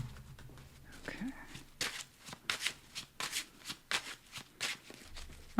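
Tarot cards being shuffled by hand, a run of crisp riffling bursts in quick irregular rhythm, close and fairly quiet, with soft breathy voice in between.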